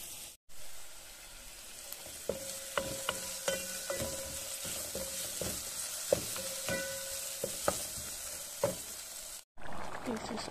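Homegrown chayote (sayote) cooks in a pan with a steady sizzle, broken by a series of sharp utensil clicks and scrapes as it is stirred; a voice is faintly present at moments.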